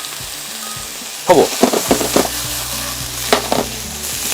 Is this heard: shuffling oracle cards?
no